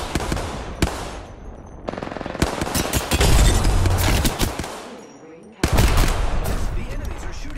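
Enemy gunfire in the game Apex Legends rattles in repeated automatic bursts, sharp and loud, with short gaps between volleys and a heavy sustained stretch in the middle before another burst.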